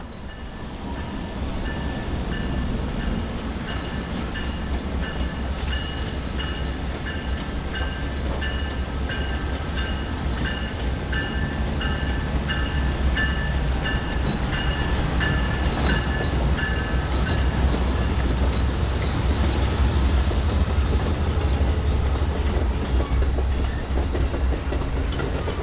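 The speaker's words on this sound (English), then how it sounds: "Now approaching from the south is train number 29, the Capital Limited from Washington, D.C." Amtrak train number 29, the Capital Limited from Washington, D.C., rolls steadily past on a busy BNSF main line near a Chicago coach yard, a continuous loud rumble with rhythmic wheel clatter and a faint tonal hum throughout.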